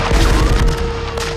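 Dense, chaotic bursts of gunfire with booming low-end impacts, loud and continuous throughout, over a busy cinematic mix from the film Die Hard.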